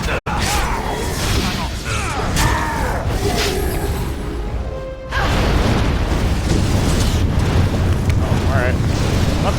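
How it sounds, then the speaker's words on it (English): A demon erupts in fire in the video game Dragon Age Origins, producing a loud, continuous roaring rumble that breaks off briefly midway, then surges back just as dense. "That's just the demon erupting"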